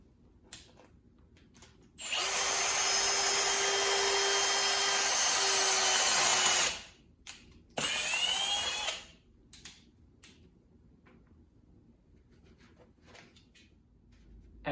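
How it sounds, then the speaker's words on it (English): A power drill bores a hole, whining loudly and steadily for about five seconds, then fires a second shorter burst. Quiet room tone and small handling noises surround it. "Okay, so I'm going to drill a hole."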